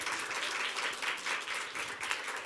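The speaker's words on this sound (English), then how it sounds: "Could you all give them a hand of applause?" Audience applause for lecture participants at the end of an environmental lecture, a steady, fairly soft wash of many hands clapping throughout, somewhat distant in the hall.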